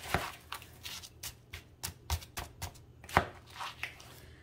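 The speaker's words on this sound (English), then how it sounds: "I'm going to kind of gently mix this together here a little bit." Frozen hash browns, broccoli and other casserole ingredients get gently mixed, giving a series of short crisp clacks and scrapes, some louder than others, at an irregular pace close by.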